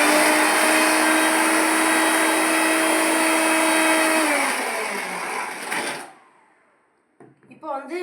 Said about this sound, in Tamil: இப்போ கொஞ்சம் தான் அரைச்சிருக்கு, இன்னும் நல்லா அரைக்கலை